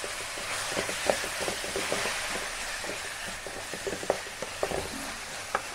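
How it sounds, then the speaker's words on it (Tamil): Tomatoes sauté in oil in a pan for egg kulambu, giving a steady soft sizzle with occasional small pops and crackles, close and moderately quiet, with no talking. "தக்காளி கொஞ்சம் வதங்கட்டும்"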